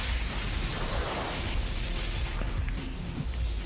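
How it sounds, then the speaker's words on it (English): Ice blows apart when struck during a fight between Scorpion and Sub-Zero in Mortal Kombat Annihilation. The burst is a loud, dense, roaring crash that fills the short stretch, with no talk over it. "Didn't realize ice exploded when you hit it with stuff."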